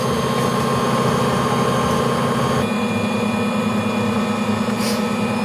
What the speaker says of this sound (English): If you want a quiet mixer, this is one of the quieter ones.